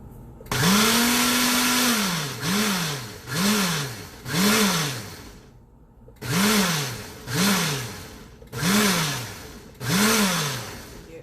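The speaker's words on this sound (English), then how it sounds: "So now we're gonna blend it." A loud blender whirs through a meat marinade in repeated pulses, its motor pitch rising and falling with each burst, with short pauses between bursts.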